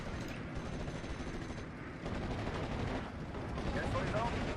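Spitfire strafing a Pak 43 anti-tank gun in Steel Division: Normandy 44, with dense, continuous rattling gunfire and rumbling battle noise throughout, loud and sustained with no clear pauses.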